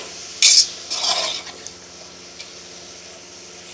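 Carrots, cabbage and peas being stir-fried in a pan for a Chinese-style vegetable rice, heard as a couple of short metallic scrapes and clinks of a utensil against the pan over a low steady background, with no talking.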